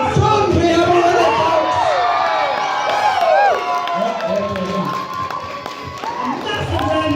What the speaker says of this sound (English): Massive round of applause for our winner